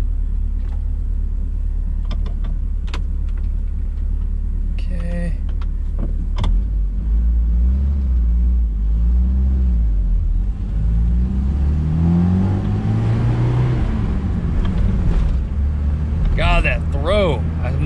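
A stock 1979 Ford Mustang Coupe with a 2.3L engine drives along, engine droning and rising as it accelerates, then easing as it brakes hard, with a voice speaking briefly inside the car.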